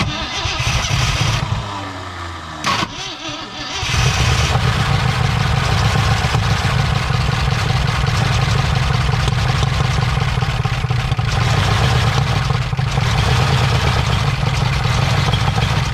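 The engine of an abandoned 1968 Ford F100 Ranger pickup, first start in 25 years, cranks, catches and settles into a loud, rough, continuous idle with a steady low rumble throughout.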